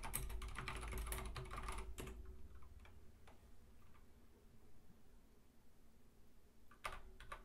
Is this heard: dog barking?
no